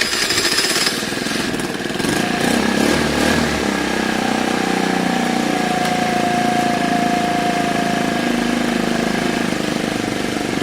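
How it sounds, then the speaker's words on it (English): A Piaggio Fly moped engine runs steadily at idle, close and loud, a buzzing mechanical drone that holds with only a slight rise and fall in pitch. "as well as a starting and running engine"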